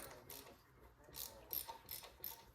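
A ratchet wrench tightens the handlebar clamp on a BMW R100S motorcycle, giving several short, quiet clicking bursts close by in a calm workshop.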